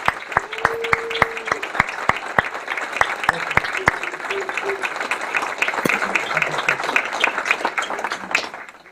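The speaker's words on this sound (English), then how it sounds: "how about a big round of applause for everybody?" An induction ceremony audience applauds steadily, a dense wash of many hands clapping with a few sharp individual claps standing out, while a voice speaks briefly over it.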